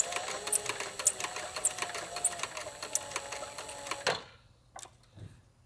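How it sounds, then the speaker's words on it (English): A sewing machine stitching bullet loops rattles in a fast, even run of needle strokes that stops abruptly, leaving near silence with a faint click. "Okay, now we're going to run the stitch down."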